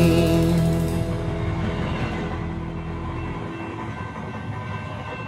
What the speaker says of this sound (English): Choo-choo, here comes the train.